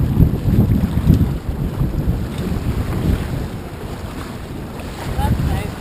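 Strong wind buffeting the microphone aboard a racing sailboat, with a low roaring rumble and gusty swells, plus water rushing against the hull. The wind is loud and continuous with no clear talk.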